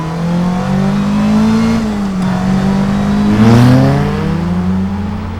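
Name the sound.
Caterham 310R 1.5 litre engine revving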